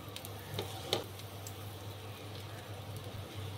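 Slices of bread fry in hot oil in a pan for shahi tukda, giving a steady, soft sizzle with a few brief crackles and a low hum underneath, no voices.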